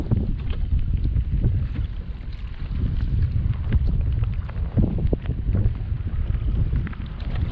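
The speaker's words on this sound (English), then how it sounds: "Got windy, man." Steady wind gusts buffet the microphone on open water while out kayak fishing at Port Mansfield, a constant low rumble with a few faint splashes and knocks, loud and continuous with no talking.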